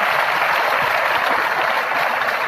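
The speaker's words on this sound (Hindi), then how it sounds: "मैं चाहूँगा इन बच्चों के लिए एक ज़ोरदार ताली" An audience at a Lucknow religious program claps for children, dense sustained applause that stays loud and even from start to finish.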